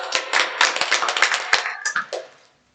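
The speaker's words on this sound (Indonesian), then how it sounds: "Beri aplaus." Students in a classroom give a short burst of applause, a cluster of crisp, uneven hand claps close by that thin out and stop abruptly, leaving near-silence at the end.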